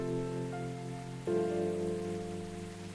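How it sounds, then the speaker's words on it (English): Rain patters steadily on a surface on a rainy night in the coffee shop game Coffee Talk, mixed with sustained musical tones that shift pitch partway through. "it looks like it's a wonderful rainy night"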